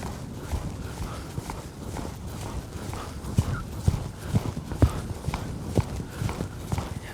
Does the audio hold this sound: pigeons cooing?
no